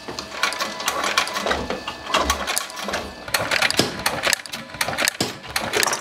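A sewing machine stitches leather saddle parts around stainless steel D-rings in a saddlery workshop, a close, busy run of rapid mechanical clicks and whirring with brief pauses.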